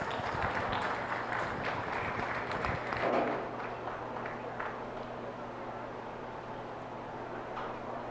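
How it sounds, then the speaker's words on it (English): Audience applause for beef cattle show entries at a county fair, a broad steady patter of clapping across a large arena with crowd murmur beneath, peaking early and easing to a sustained wash. "let's give those entries a nice round of applause within this division"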